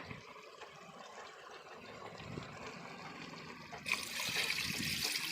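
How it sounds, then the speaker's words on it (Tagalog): Steady rushing bubble of water boiling in a pot, close up, growing louder and brighter toward the end as the boil intensifies. "kumukulo na siya"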